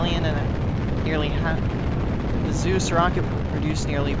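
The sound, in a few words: Zeus rocket liftoff roar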